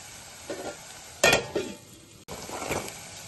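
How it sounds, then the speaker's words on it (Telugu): Onion pieces with salt frying in a pan: a soft steady sizzle broken by bursts of spoon stirring and metal clinks against the pan. "ఉల్లిపాయ ముక్కలు వేపుకోవాలి."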